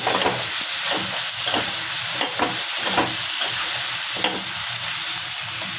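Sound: garlic frying in oil

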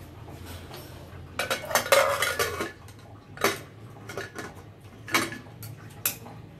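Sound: closing the lid of a pressure cooker

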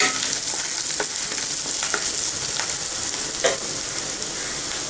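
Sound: onions sautéing in a pan

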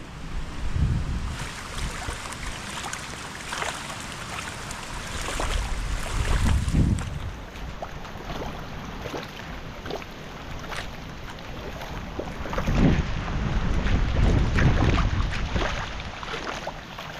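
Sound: strong wind

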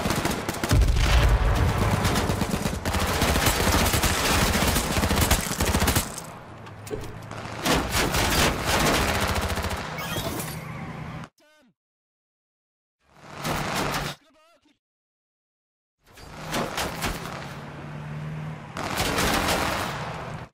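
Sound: gunfire in the video game H1Z1

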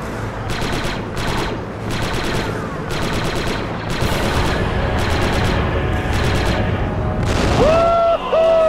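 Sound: explosion and gunfire in Star Wars Republic Commando video game

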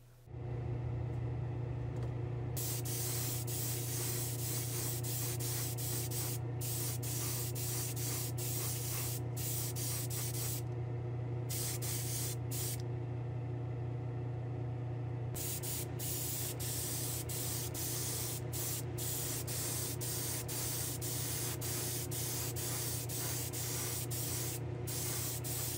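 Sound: spraying final clear coat on a Hot Wheels model car

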